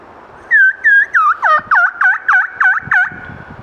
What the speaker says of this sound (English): Whistle followed by yelps.